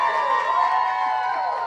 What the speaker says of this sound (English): A round of applause once again for you, Caitlin.